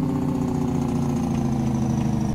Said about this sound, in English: I do really love this Cummins sound.